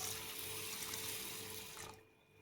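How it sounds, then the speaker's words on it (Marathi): Basmati rice is rinsed under running water in a sink, a soft continuous splashing and trickling that fades slightly at the end; quiet and close, with no talking. "आपण 2-3 पाण्याने चांगले असे स्वच्छ धुवून घेणार आहोत।"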